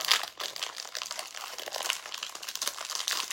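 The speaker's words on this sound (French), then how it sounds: "Je vais l'ouvrir" Wrapper of a Snickers protein bar being torn open and handled, close crinkling and crackling plastic rustles continuing throughout without speech.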